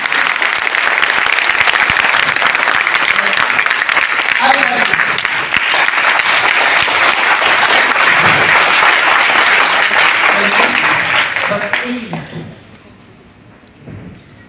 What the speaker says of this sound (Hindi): एक बार इधर से ताली बजनी चाहिए